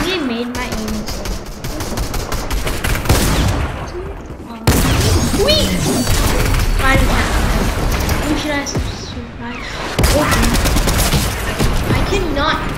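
Rapid bursts of gunfire and booming shots from a first-person shooting video game fire almost continuously and loudly, with a voice talking over the action throughout.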